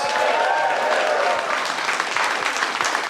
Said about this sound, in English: How about a big round of applause for Mickie James?